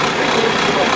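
A junkyard car engine runs steadily before any treatment, a loud, dense, continuous mechanical roar up close with no breaks over one second.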